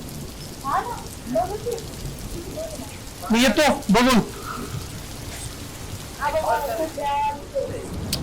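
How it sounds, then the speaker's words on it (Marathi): Steady, dense rain hisses throughout while a few people talk in short bursts over it. "आज काही जास्तच पाऊस दिसतोय"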